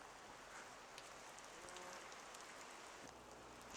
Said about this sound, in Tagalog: Ulan na ulan. Grabe.